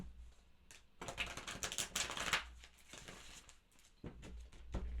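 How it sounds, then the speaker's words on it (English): Tarot cards shuffled by hand in a quick, papery flurry of riffles and slaps, loudest in the middle and then trailing off into a few short bursts, close up with no talking. "a few more shuffles for Leo"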